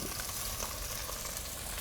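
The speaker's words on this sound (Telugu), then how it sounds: "ఇప్పుడు ఇది కొంచెం వేగిన తర్వాత ఇది ఇంత మాత్రం వేయించుకోండి" Bendakaya bajji masala frying in a pan just before tomato goes in, a steady dense sizzle holding even throughout without talk.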